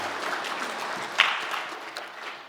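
A church congregation applauds together during Sunday worship, a soft, steady wash of many hands clapping at moderate distance for a couple of seconds, with no voices rising above it.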